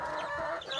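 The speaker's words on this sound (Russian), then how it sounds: "Это вот петушок." A red-combed rooster in a chicken coop gives a short clucking call. The sound is close and lasts under a second.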